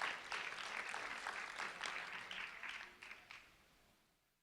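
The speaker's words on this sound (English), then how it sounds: "a round of applause for Tramaine Elvine" An audience gives a round of applause for a fifth-grade student who led the pledge: a steady crowd clapping for about three seconds that tapers off gradually, with no talk over it.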